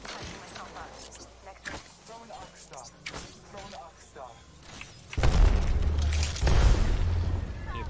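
Grenade explosion and gunfire in a multiplayer shooter video game: scattered shots and thumps over players talking, then a heavy, loud booming blast with sustained rumbling and further bursts toward the end.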